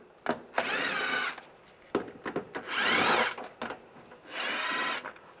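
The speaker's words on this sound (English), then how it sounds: "Take these screws out." Screws backed out with a T25 socket during alternator removal on a 1999–2005 Volkswagen Jetta: three short ratcheting or spinning bursts of about a second each, close and fairly quiet, with small clicks and handling noises in between.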